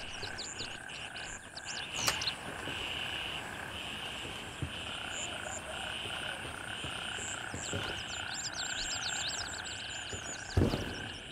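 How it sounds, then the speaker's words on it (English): Loud, steady chorus of frogs croaking in the video game Gray Zone Warfare, a dense layered outdoor ambience with a couple of sharp clicks and no talking. "the frogs are, like, so loud."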